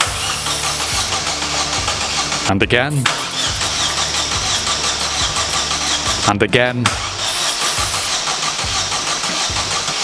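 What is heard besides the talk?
Vauxhall Corsa VXR engine cranking, trying to start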